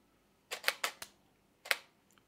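A camera shutter fires during a photography shutter-speed demonstration with an orange tossed in the air: a quick run of four sharp mechanical clicks, a pause, then one more, close and fairly quiet with no talking.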